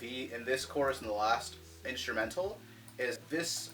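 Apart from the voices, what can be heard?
None of the usual background noises is heard.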